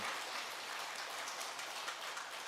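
A church congregation applauds together, a dense, even wash of clapping that stays steady and fairly loud for the whole stretch, with no voices over it.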